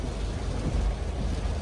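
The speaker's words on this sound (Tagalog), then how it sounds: "As in, napakalakas po yung ulan." Heavy rain pours down in a dense, steady wash with a low, rumbling undertone, close and continuous.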